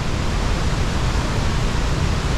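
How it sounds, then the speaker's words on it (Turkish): Iguazu Falls, Argentine side: a thick, unbroken roar of plunging water, near and loud, steady throughout with no voices. "Arkamda muhteşem Iguazu şelaleleri."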